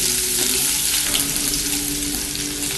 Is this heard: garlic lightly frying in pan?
yes